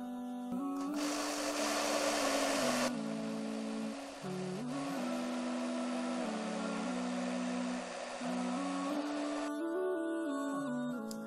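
Blender whirring through soaked rice with yeast and sugar, a loud steady motor whine whose pitch shifts a few times as the load changes, running almost nonstop before cutting off.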